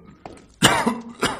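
A person coughs close to the microphone: a faint short cough, then two louder, harsh, chesty coughs in quick succession.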